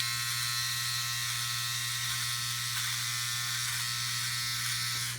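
A Philips OneBlade electric trimmer buzzes steadily and close while trimming a goatee, a constant motor hum with no talking throughout.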